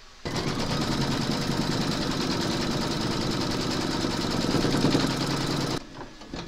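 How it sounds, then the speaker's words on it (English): A Brother embroidery machine stitches a round of a large whimsical Santa design, a steady, fast mechanical chatter running continuously for several seconds before cutting off abruptly near the end. "We're now going to stitch round number 9."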